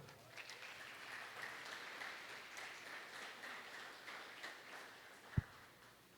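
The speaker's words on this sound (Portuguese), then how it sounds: "Você pode aplaudir o Senhor?" Very faint applause from a congregation in a church, a soft continuous patter of clapping with one brief sharp knock near the end.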